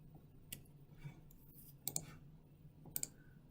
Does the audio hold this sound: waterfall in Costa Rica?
no